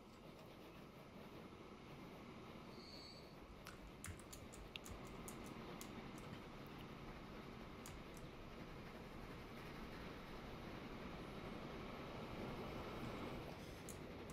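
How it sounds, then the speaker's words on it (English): A train arriving at a station, a steady rumbling, rattling rail noise holding at an even level throughout with faint clicks over it, no talking. "This train is coming in."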